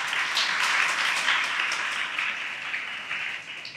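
An audience of students at a children's assembly event in Lahore applauds in a steady, dense wash of clapping that holds throughout and tapers slightly at the end.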